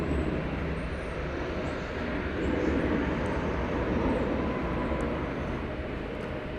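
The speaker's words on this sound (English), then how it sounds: "This is an American Airlines flight to Austin, Texas. 737-800" An American Airlines Boeing 737-800 jet bound for Austin, Texas rumbles at the airport in a steady, moderately loud engine roar that swells slightly midway, with no talk.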